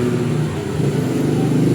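A gasoline car engine idles at a steady RPM after a faulty high-tension spark plug wire was dealt with, giving a continuous, even mid-low hum close by with no talk over it.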